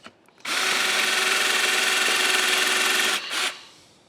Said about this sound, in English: It's not going to drill through it.